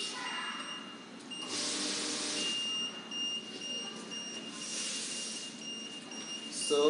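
Alarm on a conveyor belt metal detector tripped by a 2.0 mm stainless steel piece, a thin steady electronic tone with intermittent beeping over a continuous machine hum in an industrial setting.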